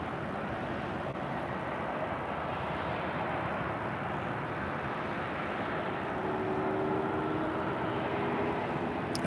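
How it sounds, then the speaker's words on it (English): A Delta Boeing 757-200 bound for Detroit at LAX gives off a continuous, loud, broadband jet engine roar that holds steady throughout, with a faint whining tone rising near the end and no voices. "this flight heading to Detroit on this Delta 757-200"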